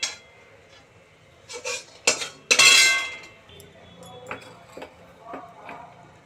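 Fried lentil dumplings (bori) are lifted out of a pan: a handful of metallic clinks and scrapes of a utensil against cookware, with a louder clatter near the middle and quiet gaps between.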